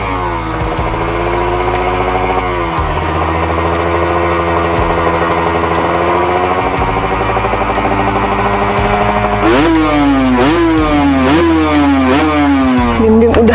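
A Kawasaki Ninja motorcycle engine revs loud and close, holding a steady high drone before climbing into sharp repeated throttle blips and rising whines toward the end, with no talking.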